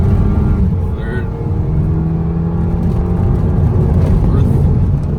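Diesel Mercedes rallying through a Serbian village, engine droning loudly from inside the cabin as it accelerates, with the pitch dropping and rising through gear shifts and a voice speaking over it.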